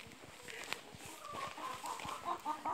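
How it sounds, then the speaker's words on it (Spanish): Hens on a countryside farm, including green-egg layers, cluck softly and irregularly in short bursts, faint and fairly close, with light background noise and no clear talk. "Y acá están nuestras gallinas."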